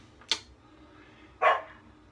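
A pet dog barking to be let back into the house, two separate loud barks a moment apart, fairly close, with quiet room tone between them.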